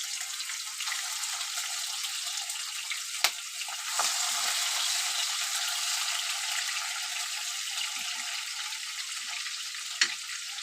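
Prawns fry in hot oil in a wok, giving a steady, loud hiss of sizzling throughout, broken by a few sharp spatters and pops.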